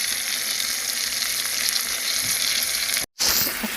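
Garlic shrimp frying in butter and olive oil, a loud, steady sizzle that fills the whole stretch, broken by a brief cut near the end before the crackle resumes.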